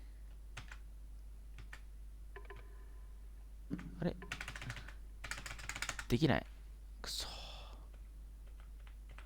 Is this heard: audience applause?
no